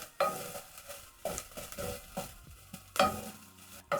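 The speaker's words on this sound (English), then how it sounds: "Stir in the garlic." Garlic frying in a pot while a utensil stirs it, with a run of scraping strokes at an uneven rhythm over a soft sizzle, close and fairly quiet.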